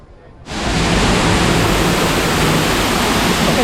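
A waterfall at the Canada Pavilion in Epcot roars as a loud, steady wash of rushing water that rises abruptly and holds constant.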